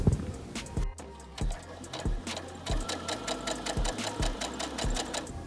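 A sewing machine runs a rough stitch in yellow thread, close up, in rapid rhythmic bursts of mechanical needle clatter with short pauses between runs.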